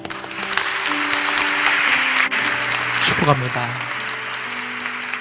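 Members of a church congregation applaud in a steady, dense wash of clapping that lasts the whole time, while a speaker's voice carries over it and a low musical tone lingers underneath.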